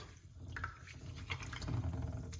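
Water drips and trickles faintly as fresh moringa leaves are rinsed, with soft irregular splashes over a low background hum.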